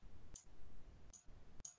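Three quiet computer mouse clicks, evenly spaced and sharp, over a low steady background hum with no talking.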